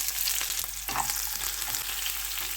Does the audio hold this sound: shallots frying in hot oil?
yes